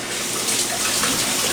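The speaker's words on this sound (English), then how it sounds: "So let me wash my hands." Tap water running steadily into a sink while hands are washed in a kitchen, a loud continuous close splashing rush with no talk.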